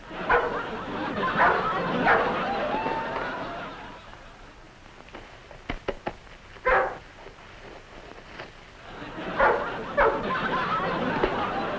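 A dog barks in short, repeated bursts, near and fairly loud, in scattered groups separated by quieter stretches, with faint background noise between the barks.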